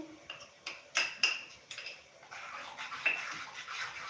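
A metal spoon stirring and mixing dhokla batter with ginger-chili paste in a bowl, a few clinking taps against the side followed by softer scraping and churning, fairly close and quiet, no talk.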